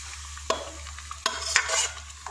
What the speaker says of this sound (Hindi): मैं इसमें दाल ऐड करूँगी